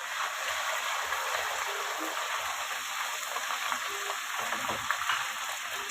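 Ginger garlic paste frying with browned onions in a pan, a steady soft sizzle with occasional stirring scrapes, fairly quiet and continuous.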